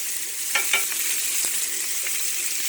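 Burgers frying in a pan, a steady close sizzle with a few soft scraping knocks of a spatula near the start.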